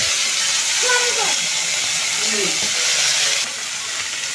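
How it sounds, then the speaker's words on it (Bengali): Tomatoes poured into hot oil seasoned with a little panch phoron five-spice for a date and mango chutney, giving a steady loud sizzling hiss that holds throughout and eases slightly near the end. "আমার তেলটা গরম হয়ে গেছে দেখো আমি একটু সামান্য পাঁচ ফোড়ন দিয়ে দিলাম অল্প একটু আর ওতে ঢেলে দিচ্ছি টমেটোগুলো"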